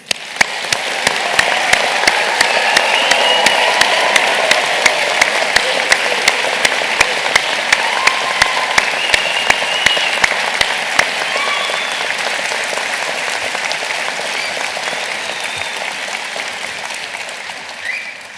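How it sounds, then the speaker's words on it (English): A large audience at a University of South Wales graduation ceremony claps warmly in a loud, sustained round of applause that gradually thins toward the end. "they deserve a warm round of applause"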